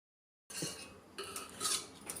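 After a brief silence, a metal lid clinks and scrapes onto a pot of simmering tomato and carrot soup, two or three short, close metallic knocks with a light rattle.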